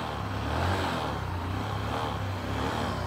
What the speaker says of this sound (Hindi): गाड़ी तो स्टार्ट हो चुकी भाई यार